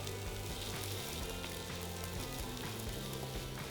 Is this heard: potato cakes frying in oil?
yes